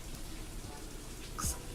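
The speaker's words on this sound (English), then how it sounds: "right now it's raining pretty good. I can hear it." Rain falls steadily outside a garage, heard from inside as a faint, even wash of noise, with a brief soft knock near the end.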